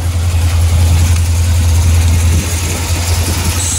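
A bolt-on C7 Z06 Corvette running on E85 idles close by with a deep, steady rumble, loud and unbroken throughout with no talk over it.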